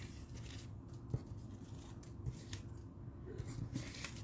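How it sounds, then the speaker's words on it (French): Scissors snip close by through a stack of aligned design paper strips for card stamping, giving a few quiet, irregular cuts over a soft low background hum. "toutes les aligner, toutes couper en même temps"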